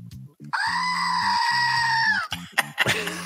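A man imitates a goat with one drawn-out, wavering bleat lasting nearly two seconds, loud and close, over a low rhythmic background, followed by a few short vocal noises.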